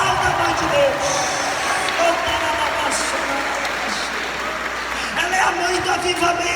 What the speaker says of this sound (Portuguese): Aplauda a mãe de Deus.